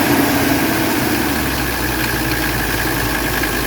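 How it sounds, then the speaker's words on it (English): A 1985 wagon's 617 engine idles in good health with fresh engine mounts and a recent valve adjustment, giving a loud, steady, even rumble heard close up and alone, without talk. "Show you that there's absolutely zero blow-by on this engine."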